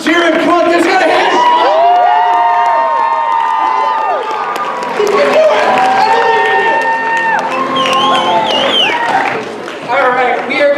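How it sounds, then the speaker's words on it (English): Crowd at a youth conference applauding and cheering loudly and continuously, with whoops and shouts mixed over background music for about ten seconds. "Oh, quick, give him a hand."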